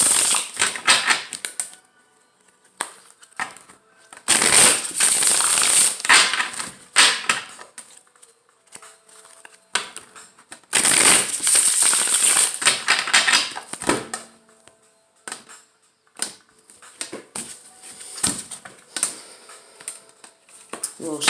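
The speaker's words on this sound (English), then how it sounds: "Shuffle these up." Tarot cards shuffled by hand in bursts of crisp riffling and flicking, with two long loud runs and shorter taps and slides between them, close to the microphone with no talking.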